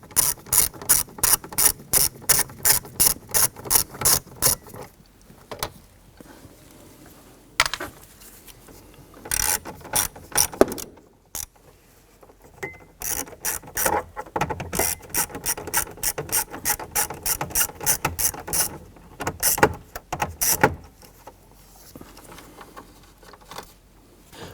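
A hand ratchet backs out 9/32 trim screws on a 1993-1997 Ford Ranger interior, with rapid bursts of close, crisp clicking that stop and start repeatedly and pause between screws.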